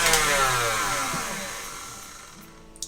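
An electric stand mixer beats butter into macaron buttercream with a steady whirring motor hum that starts loud and slowly fades over a few seconds, ending with a brief clatter.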